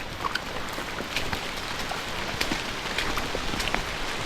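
Rain falls steadily at the edge of a forest, a constant patter with scattered sharper drops landing on nearby surfaces; no one speaks.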